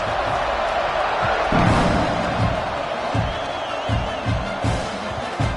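A packed college football stadium crowd roars at kickoff in an NCAA game involving North Carolina, a broad sustained cheer swelling and ebbing, with scattered sharp thumps and whoops rising above it.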